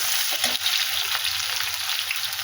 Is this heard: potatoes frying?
yes